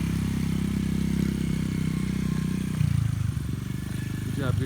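Honda XR50 pit bike ridden easily on a street, a steady low engine drone with small throttle changes, heard close with a voice talking over it.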